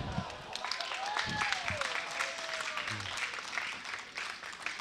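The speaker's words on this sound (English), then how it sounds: "the clapping in the background is for another game" Background clapping from another game on a neighboring sheet at a state high school boys curling championship, with scattered applause at a moderate distance under ongoing commentary and arena noise.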